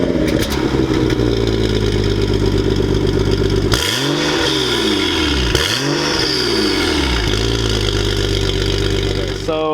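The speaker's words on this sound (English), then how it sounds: "You hear a whole bunch of turbo spool" A BMW 135i with its exhaust valve open revs hard, its engine note climbing and falling in repeated sweeps, with loud turbo spool whistling above the deep, close exhaust roar.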